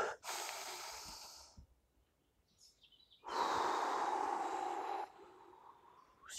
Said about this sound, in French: on va se faire trois respirations